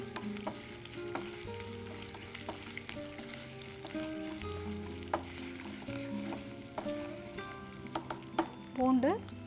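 Curry leaves, dried manathakkali berries and garlic fry in a pan, giving a steady close sizzle and crackle with scattered stirring clatter and a few brief louder spits near the end; no talk.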